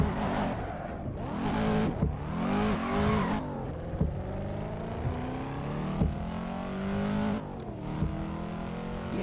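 Engine of a car with traction control off revving and accelerating in a home-built racing simulator game, with repeated surges in pitch, near and steady, alone without talk.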